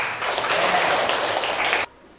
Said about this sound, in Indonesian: Betul ya, tepuk tangan.